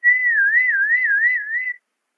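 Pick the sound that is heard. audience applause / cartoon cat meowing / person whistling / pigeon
person whistling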